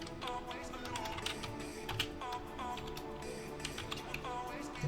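Fingers type on a computer keyboard in quick irregular bursts of light clicks, close but fairly quiet over a soft background hum.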